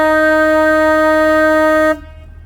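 A car horn on a narrow road sounds one loud, close, sustained blast of about two seconds, then cuts off abruptly, leaving only faint background noise.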